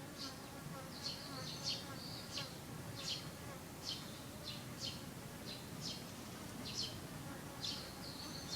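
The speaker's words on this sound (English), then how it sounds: "These are hoverflies. They sound like bees," Hoverflies buzz much like bees, with short whining passes rising and fading again and again over a steady outdoor background that includes faint bird chirps.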